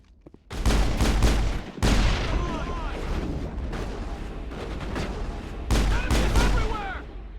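Dense gunfire in the Mass Effect video game: sustained, loud bursts of shots and booming blasts that run almost continuously, with brief lulls, while voices are faintly present underneath.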